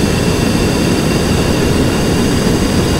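A steady, loud engine drone from an amphibious aircraft in flight in the video game Stormworks: Build and Rescue, an unbroken roar with no change in pitch or loudness and no talking.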